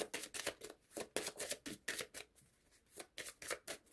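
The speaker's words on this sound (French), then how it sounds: "je vais tirer une carte finale." Tarot cards are handled and shuffled before one is drawn from the deck. Close, rhythmic papery flicks and slides repeat steadily for a few seconds without speech.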